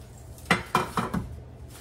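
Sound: handling metal loaf pans

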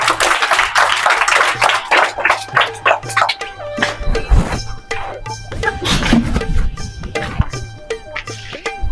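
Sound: clapping

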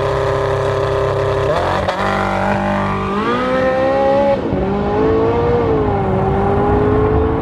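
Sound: Tesla Model S P100D versus Porsche 918 Spyder drag race

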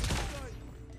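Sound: sniper gunfire in video game COD Mobile

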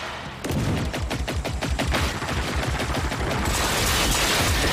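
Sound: shotgun fire in video game Generation Zero

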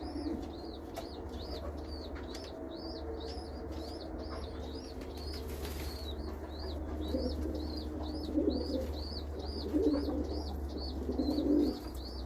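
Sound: pigeons, a chick begging to be fed

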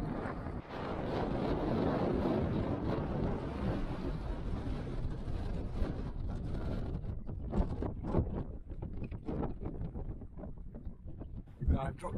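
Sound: wind blowing on microphone on a hill

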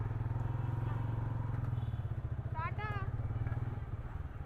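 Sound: bike taxi motorcycle riding

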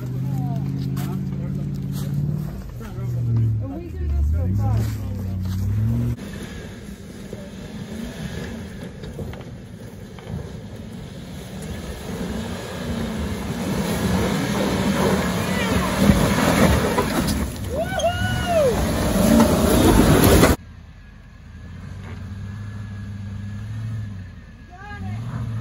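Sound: off-road vehicle engine revving without a muffler

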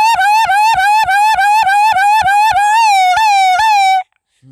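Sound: voice imitating a fire brigade siren

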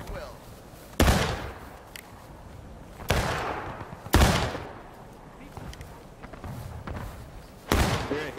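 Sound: musket volley fire from video game War of Rights

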